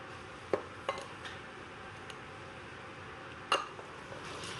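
A whisk stirring confectioner's sugar in a bowl gives a few sparse metallic clinks and taps against the bowl, quiet in between, with one sharper knock near the end.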